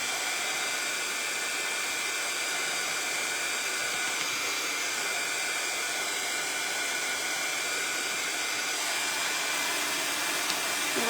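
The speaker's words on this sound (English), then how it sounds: "I'm gonna try to throw the dryer on them." A hair dryer blows steadily on painted craft pieces for a patriotic door hanger, a loud, continuous rushing whoosh with no pauses.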